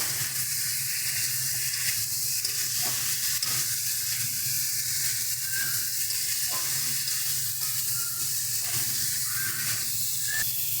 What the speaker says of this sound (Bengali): ফুলকপিটা দিয়ে দিচ্ছি। ফুলকপির সাথে ভালো করে মশলাগুলোকে মিশিয়ে নেব।